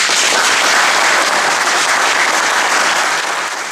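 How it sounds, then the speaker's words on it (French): A large crowd at a Creuse referees' end-of-season meeting breaks into dense, sustained applause for a referee, loud and continuous throughout. "il mérite un applaudissement à tout craquer"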